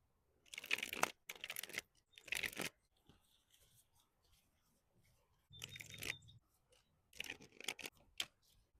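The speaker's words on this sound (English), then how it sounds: "Let's shuffle your deck" Tarot deck being shuffled by hand, several bursts of quick papery riffling and card slaps separated by pauses, close and fairly loud in an otherwise quiet room.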